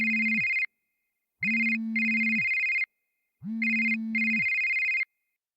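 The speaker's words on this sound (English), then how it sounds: "His phone is ringing outside." A phone rings inside a children's reading game app, a bright electronic ringtone in three clean repeated bursts separated by short silences, loud and alone with no talking.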